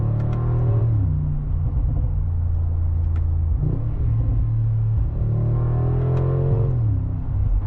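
A deep, steady engine rumble from inside a moving 2025 Mercedes-AMG G63 SUV, with the pitch rising and falling gently as it accelerates and exhaust pops muted.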